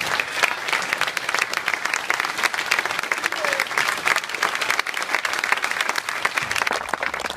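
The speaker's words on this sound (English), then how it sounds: "please join the top table in giving them a well-deserved round of applause" A room of dinner guests gives a sustained, dense round of applause for retiring Nottinghamshire cricketer Chris Read, the clapping steady and loud from start to finish.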